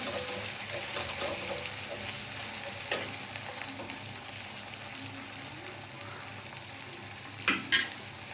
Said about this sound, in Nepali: लेके मेरो टमाटर पाक्दैछ